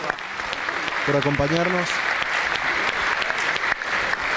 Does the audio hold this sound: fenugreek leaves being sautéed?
no